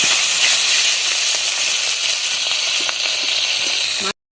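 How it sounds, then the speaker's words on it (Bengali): Gule river fish frying in oil in a pan give off a steady, loud, dense sizzle with crackling pops throughout, cutting off abruptly at the end. "মাছগুলো ভালোভাবে ভেজে তুলে নিয়েছি।"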